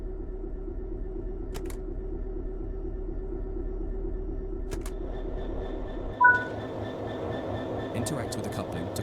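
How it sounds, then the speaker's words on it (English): In the video game Train Sim World 6, a steady low mechanical hum with a few faint clicks, then a single heavy metallic clunk as train cars couple together. "Interact with the coupling to couple the vehicles together."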